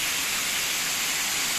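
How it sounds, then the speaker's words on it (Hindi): An artificial waterfall at Rock Garden in Chandigarh pours down from above, a steady, close broadband rush of falling water that hisses evenly throughout. "वो देखिए झरना ऊपर से आ रहा है नीचे तक"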